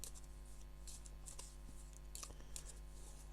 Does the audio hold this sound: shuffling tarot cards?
yes